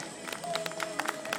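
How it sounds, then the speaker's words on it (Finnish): Scattered spectators clap and cheer at the finish line of a 10 km market-day road race in Keuruu as the winning runner crosses, a short, fairly light burst of applause under a busy outdoor background. "Näin ja Jonille aplodit siitä"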